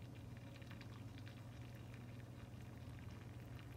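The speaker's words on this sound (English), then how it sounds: "And now we're going to just add hot water." Hot water poured from a small teapot into a baking pan holding ramekins, heard as a faint, steady liquid patter and trickle without pause or voices.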